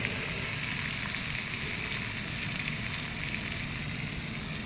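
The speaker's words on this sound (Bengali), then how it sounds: "এরপর মেটেটা কম আছে, এটাকে ফ্রাই করব।" Mutton liver frying in a pan gives a loud, close, continuous sizzle that stays steady and even throughout, with no voices.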